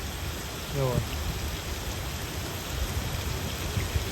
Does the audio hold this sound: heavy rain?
yes